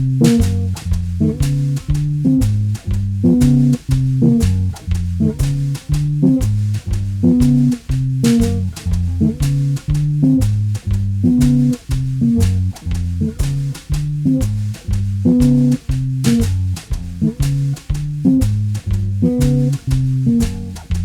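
A jazz bass guitar line runs steadily over a drum track, low notes pulsing in a repeating groove with regular crisp hits throughout.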